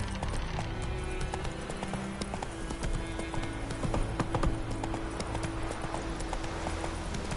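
The horse Roach from The Witcher clip-clops along at a steady walking gait, close hoofbeats ringing in an even rhythm over low ambient game music and background noise, with no talking.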